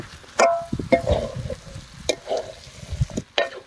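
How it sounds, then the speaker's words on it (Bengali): Mutton fat, boiled ghugni peas and potatoes are stirred and slowly fried together in a pan, with a few close scraping strokes over a soft sizzle in a brief stretch. "এখন ঘুগনির সাথে চর্বিগুলোকে ভালো করে মিশিয়ে নিয়ে ধীরে ধীরে কষিয়ে নেব।"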